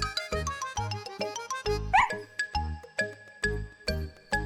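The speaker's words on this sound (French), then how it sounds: "Snuffy aboya gaiement." Cartoon dog barking happily in an animated Miffy episode, short cheerful yips set against bright plucked music, one squeaky bark standing out near the middle.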